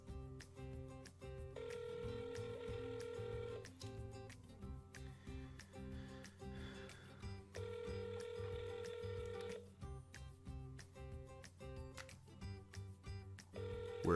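Repeated electronic telephone ringing from an auto-dialer cycling through cold-call numbers, steady tonal rings broken by short gaps and occasional clicks, fairly loud and with no talking over it.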